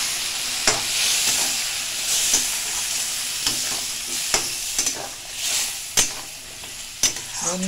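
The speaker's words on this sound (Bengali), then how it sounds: "দেখো এইবার একটু মশলার জল দিয়ে দিয়েছি।" Crab curry with fig sizzles and fries steadily in a pan after spiced water is poured in, with repeated scraping stir strokes cutting through the constant hiss, close and loud.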